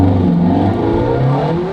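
A supercar engine revs loudly and steadily as the car pulls away, a close sustained growl with rising tone and no talk over it.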